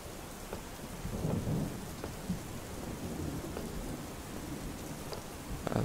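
Rain and rolling thunder from a thunderstorm in the horror video game Slender: Mansion, a steady wash of rainfall with low rumbles swelling and cracking at intervals, moderately loud and alone.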